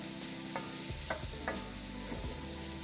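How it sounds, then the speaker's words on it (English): Shrimp sear in olive oil in a hot pan, a soft steady sizzle with a few clinks and scrapes as they are stirred and moved around. "You can hear that sear going"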